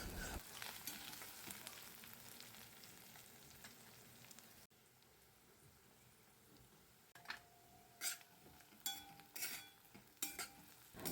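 Onions for Savji dal kanda sauté in a pan with a soft, steady sizzle, followed by quieter cooking and several sharp clinks and scrapes of a spatula stirring against the pan.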